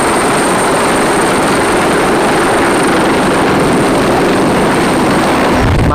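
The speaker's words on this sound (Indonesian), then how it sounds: "di sini ada helikopter TNI" A military TNI helicopter makes a loud, steady rotor and engine roar that stays constant and close with no voices over it.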